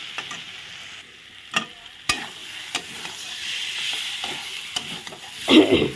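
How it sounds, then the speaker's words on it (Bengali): Masala paste with red chilli frying in oil for an egg curry, stirred with scattered scraping knocks of the spoon against the pan over a soft continuous sizzle, louder at the end. "তো এখন ভালো করে কষিয়ে নিচ্ছি সুন্দর করে কষিয়ে নিচ্ছি"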